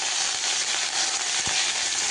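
Mustard seeds pop and crackle in hot oil while pineapple kichadi is being made, a loud constant sizzle with scattered sharp little pops, close up and with no talk.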